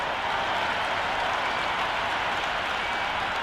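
A stadium crowd in the cricket game Cricket 26 roars and applauds steadily before an India versus Australia match, a broad, continuous wash of cheering with no talk.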